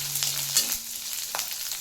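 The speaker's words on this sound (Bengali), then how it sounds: "তারপরে আদা বাটা আর কাঁচা লঙ্কা উপর দিয়ে ভালো করে সেটাকে ভেজে নিলাম।" Ginger paste and green chilli fry in oil in a pan, giving a steady close sizzle with a few soft scrapes.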